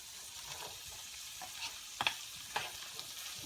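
Green onions fry in a pan with a soft steady sizzle, broken by a few brief stirring scrapes and clicks near two and a half seconds, close by and quiet, with no talk.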